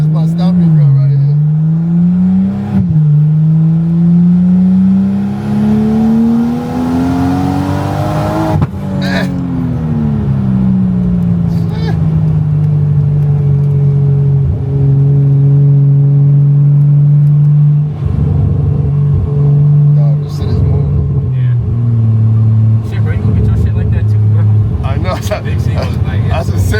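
Single turbo BMW M340 on a ride-along, engine droning and rising through gears with pitch climbing and dropping at shifts, loud and close from inside the cabin while occupants talk over it.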